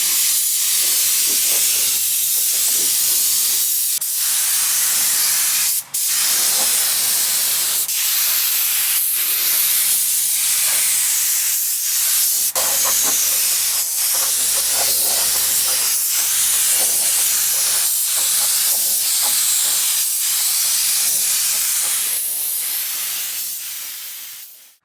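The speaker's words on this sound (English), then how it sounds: "As you can see, we're just shooting base coat on this." A spray gun lays base coat paint onto a flaking vehicle underside inside a tent outdoors, giving a loud, sustained airy hiss with brief pauses and short bursts between passes.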